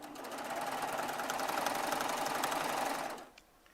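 A Baby Lock Triumph serger runs at speed with a dense, rapid mechanical whirr, close and steady for about three seconds before stopping abruptly into quiet.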